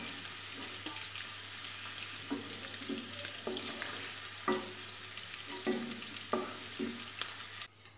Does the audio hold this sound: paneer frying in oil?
yes